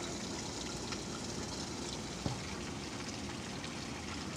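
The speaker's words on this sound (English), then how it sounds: "today is pouring down rain" Heavy rain pours steadily outdoors on a summer day, a dense continuous wash of drops with one brief knock partway through.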